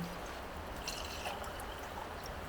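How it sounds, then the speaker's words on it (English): Redbreast 12-year Irish whiskey is poured into a Glencairn glass at a snowy campsite, a soft, faint liquid trickle over quiet background hiss. "I was just gonna say, that is a generous pour"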